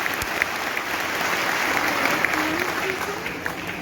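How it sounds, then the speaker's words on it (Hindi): A seminar audience at a direct-selling talk breaks into sustained applause, a continuous rushing wash of many hands heard from a little distance, steady in level throughout with faint voices mixed in. "ताली बजाने के लिए"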